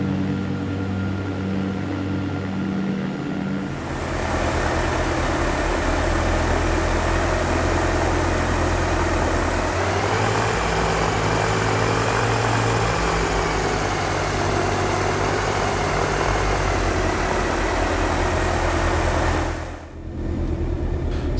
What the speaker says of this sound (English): We'll quickly take an outside view so you can hear the engines